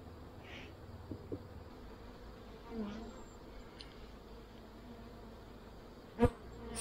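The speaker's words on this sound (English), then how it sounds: "those bees are making a lot of noise" A steady low hum of honey bees buzzing inside an open late-summer hive runs throughout at a soft, even level, with a few brief nearer buzzes and a small knock near the end.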